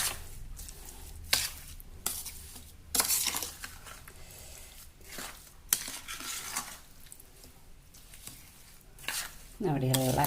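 Lemon pickle is stirred by hand with oil and salt, giving repeated wet scraping and clinking strokes against a vessel in bursts, fairly close and moderately faint, with quiet background noise between strokes.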